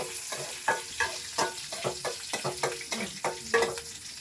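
Ingredients frying in a pan in a home kitchen, with a series of loud rhythmic stirring scrapes and clatters over a steady sizzle, close by and without talking.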